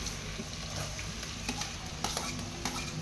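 Garlic and onion fry in a pan for pasta, giving a soft continuous sizzle with scattered stirring clicks and scrapes close by.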